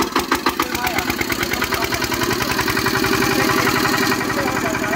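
A Chetak brand engine from Rajkot runs on a Giriraj power tiller, chugging at a steady, rapid idle with a rhythmic knocking pulse, close and loud throughout.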